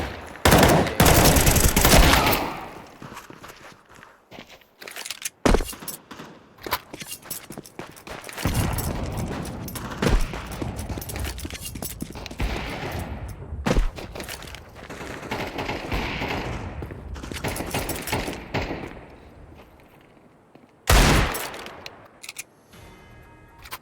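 Gunfire during the pistol round of a competitive shooter match, with sharp close shots and scattered volleys in irregular bursts separated by quieter stretches and clicking mechanisms.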